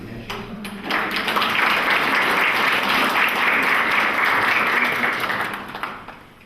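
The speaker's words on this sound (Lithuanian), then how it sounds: "Ateikit čia, dabar jums bus plojimai." Applause from a lecture audience swells after a brief opening of scattered claps, then holds as a full, dense clatter of many hands before fading out toward the end.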